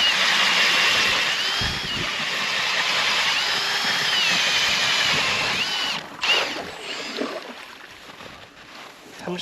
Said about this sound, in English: bring the drill.